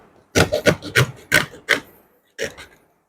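Several quick rasping scrapes from cutting through a 12 ml plastic syringe, about six strokes in a tight burst, then a pause and one final scrape, close and clear with no talking.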